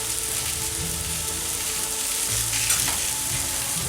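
Vegetables fry in garlic-infused olive oil on a Blackstone flat-top griddle, giving a steady, dense sizzle that holds at an even level throughout with no talking.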